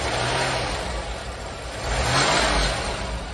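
A 1986 Oldsmobile 98 Regency Brougham engine runs steadily nearby, a smooth mid-pitched hum that swells briefly partway through, as if lightly revved.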